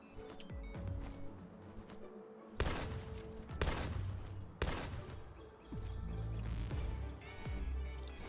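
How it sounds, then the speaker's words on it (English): An enemy shooting at the player in Palworld: several loud, separate gunshot blasts spaced a second or so apart, ringing out over a busy outdoor game soundscape with faint bird chirps. "Dude really shooting at me here."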